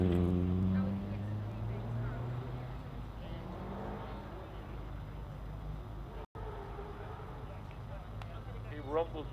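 A turbocharged Triumph TR7 rumbles through the finish of a hill climb at Loton Park, its low engine drone steady and moderately distant beneath a commentator talking throughout.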